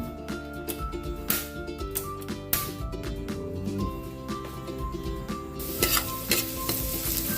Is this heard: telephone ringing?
no